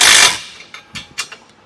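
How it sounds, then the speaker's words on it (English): A box wrench holds a nut while hardware is fastened on a heavy-duty spare tire carrier bracket for a Jeep, giving a rustle followed by four or five short metallic ratcheting clicks up close. "So you're going to use your box wrench just to stabilize the nut"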